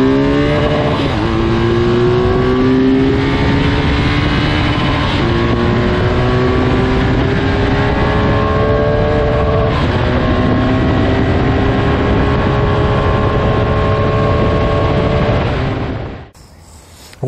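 A BMW R 1250 GS motorcycle with an aftermarket exhaust revs up steadily; the boxer engine's pitch climbs through repeated rising sweeps, loud and close, then cuts off abruptly near the end.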